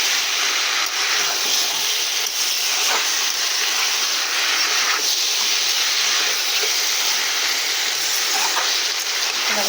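Drumstick (sajne danta) fish curry masala being sautéed in a pan, giving a steady, loud broadband hiss and sizzle throughout with faint scraping, no talk.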